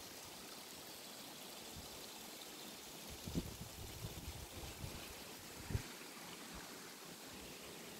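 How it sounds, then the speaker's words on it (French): A small garden stream flows steadily in a soft, continuous wash of running water, faint and close, with a few brief splashy bumps and no voices. "Et voilà, le ruisseau."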